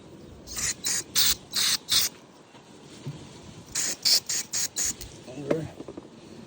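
Short bursts of car cleaner sprayed onto a Lawn Boy AWD push lawn mower, in two quick series of about four or five hissing squirts each, separated by a pause, with faint rustling in between.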